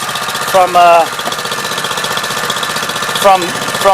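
The engine of a Multiquip Mikasa MVH-206GH hydraulic plate tamper runs with the choke on, not yet warmed up, a steady close rumble with a couple of brief rising whines over it.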